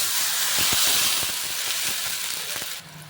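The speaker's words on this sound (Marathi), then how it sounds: "सर्व परतून झाल्यानंतर पाणी घालून घेऊया" Water poured into a hot pan of sautéed spring onion and turmeric for besan pithla sizzles and hisses steadily and loudly, with a few faint knocks, before settling down at the end.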